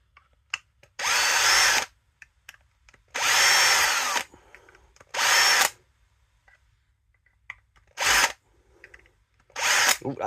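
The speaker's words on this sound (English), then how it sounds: "So, give it another go with the drill." A power drill whirs in five short bursts separated by quiet pauses, close and loud, with faint rustling in between.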